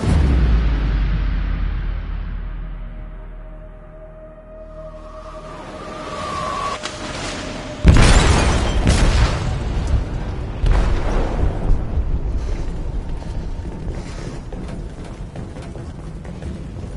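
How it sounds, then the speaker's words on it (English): Video game explosion deep in a ship's hold: a low rumbling boom swells, then a sharp blast hits and breaks into a long crackling, roaring aftermath, loud and close. "They detonated an explosive in the hold. The ship is sinking, sir."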